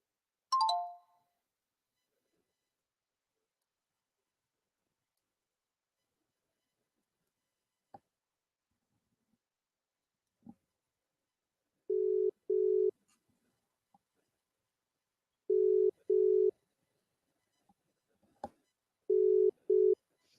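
A telephone call-back tone plays after a short chirp: quiet repeated double beeps at regular intervals with near-silence between them and no voices.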